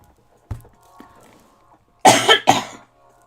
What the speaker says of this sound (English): Oh, this cough. Make it stop.